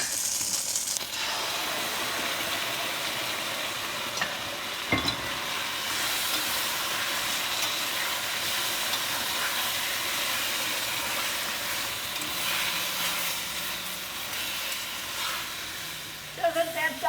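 Steady loud hissing sizzle as orange chicken sauce hits a hot pan, a constant frying roar with a few faint clinks and a brief voice near the end.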